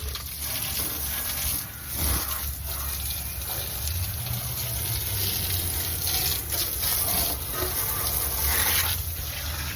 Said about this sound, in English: Rinse your whole trailer, especially the hub, the axles, the springs.